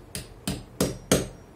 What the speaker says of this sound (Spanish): agarramos con un martillito y golpeamos